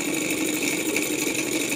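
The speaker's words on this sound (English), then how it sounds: "the engine is reaching a maximum temperature, maximum speed" A small Stirling engine drives a propeller that whirs steadily and continuously at close range, running hot near its maximum speed, with a constant buzzing drone throughout.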